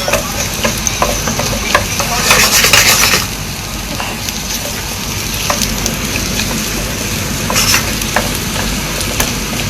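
Carrots sizzling and being stirred in a pan while cooking pork menudo, a steady close frying hiss with scraping stirs and a couple of louder clattering bursts.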